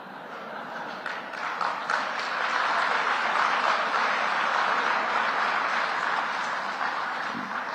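Seminar audience at a National Seminar on Happiness clapping in a broad, steady round of applause that swells and holds evenly for several seconds, filling the hall.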